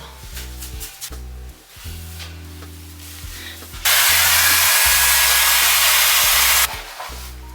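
A hair dryer blows on hair during a hair and skin care routine. It gives a loud, steady rushing roar for about three seconds, preceded and followed by quieter handling sounds.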